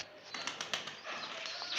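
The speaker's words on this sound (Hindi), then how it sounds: "इस तरह कबूतरों की ट्रेनिंग हो रही है माशाल्लाह बच्चों की।" Young pigeons being trained flap their wings and coo softly at close range, with brief fluttering bursts of wingbeats over a quiet background.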